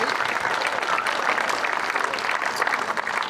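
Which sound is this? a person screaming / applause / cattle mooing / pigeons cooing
applause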